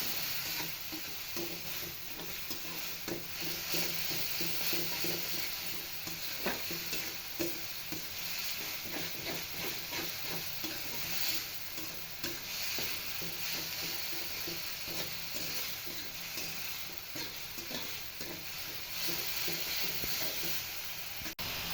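Coriander leaf chutney with salt and a pinch of turmeric stirred in a pan over low heat, a soft continuous sizzle with frequent light scraping strokes of a spoon, no talk.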